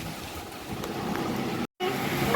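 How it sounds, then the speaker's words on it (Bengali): Heavy rain from Cyclone Remal pours steadily in a dense, continuous wash of broadband noise, briefly cut to silence near the end before resuming at the same loud level. "ঝমঝম করে বৃষ্টি হচ্ছে"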